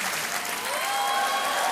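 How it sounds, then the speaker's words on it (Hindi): Studio audience applauding on the quiz show Kaun Banega Crorepati after a contestant wins a big prize, a steady wash of clapping at moderate level that swells slightly toward the end, with no talk over it. "आप सुन रहे हैं कि जनता कितनी कमजोर तालियां बजा रही है"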